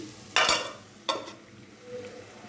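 A spoon stirs crab curry with coriander powder in a pan, two short scraping strokes close by over a soft background sizzle, then quieter shuffling.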